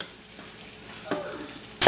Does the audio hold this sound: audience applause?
no